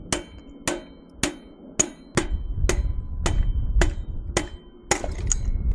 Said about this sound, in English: I think I'm gonna need something long enough to fit inside of these on the other side and hammer it through